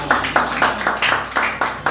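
Bursts of rhythmic clapping from a wedding audience, loud and close, in short uneven waves over a faint low musical drone.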